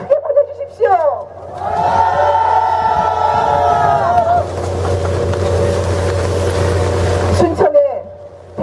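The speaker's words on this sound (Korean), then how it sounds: "의리의 사나이 김선동 여러분 박수 한번 크게 보내주십시오" A large crowd cheers and shouts, then breaks into loud, sustained applause at an outdoor campaign rally for National Assembly candidate Kim Seon-dong, with a voice heard near the start and end.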